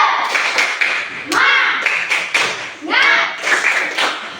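Students in a classroom do a rhythmic spirit clap, sharp claps in a patterned burst, with voices chanting and talking over it.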